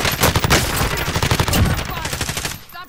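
Rapid bursts of gunfire in a shooter video game, loud and dense, overlapping shots that crackle almost without pause before cutting off near the end.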